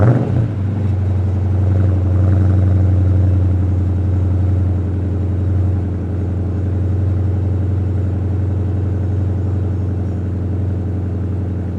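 A Dodge Challenger R/T with a 5.7 Hemi V8 starts up and settles into a steady, deep idle rumble that holds close and loud throughout, with no talking.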